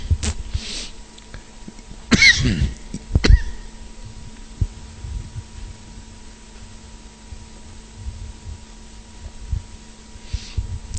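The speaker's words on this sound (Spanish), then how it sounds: "Estoy luchando con esta tos." A single hoarse cough breaks a quiet room with a low hum, followed by a short throat-clearing sound, then near silence.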